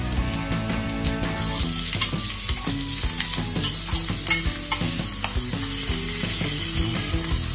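Green chillies and curry leaves roast in a hot pan for a microwave dhokla tempering, a steady sizzle broken by repeated scraping and clinking strokes of a spoon, loud and close with no voices.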